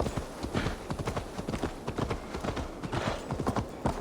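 Horse hooves in the video game Assassin's Creed Valhalla clop in a quick, steady rhythm, loud and close, with a faint rushing background behind them.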